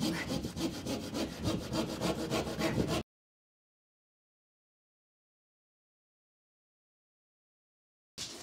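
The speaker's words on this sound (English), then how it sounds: "I'm just going to run the saw down the timber" A hand saw cuts plasterboard along a timber stud in a garden room build, with steady rhythmic rasping strokes for about three seconds, then silence, then a brief resumption at the end.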